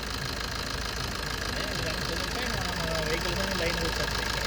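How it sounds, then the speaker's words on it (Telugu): Old Maruti Swift engine, over 3.1 lakh km, running steadily at idle with a constant broadband hum and faint mechanical knock, continuous and fairly close throughout. "ఇంజిన్ నాయిస్ అబ్జర్వ్ చేయండి"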